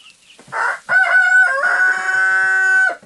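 Pet chickens on a small farm, a rooster letting out one loud, close crow after a short cluck, with faint clucking beneath.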